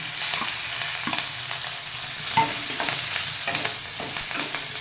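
Green chilies and radhuni spice fry in oil, a loud continuous sizzle with scraping stirs and clatters of a spoon in the pan, close up and without speech.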